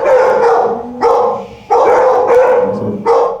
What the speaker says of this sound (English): The barking in here is pretty loud.